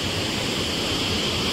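A swollen riverside stream rushes past a resort in a steady, loud, unbroken roar of flood water, close by with no other sounds.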